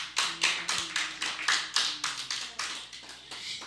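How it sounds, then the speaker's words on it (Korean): A church congregation at a Wednesday service claps together in a steady, even rhythm, about four beats per second, close and crisp, with faint background voices. "박수."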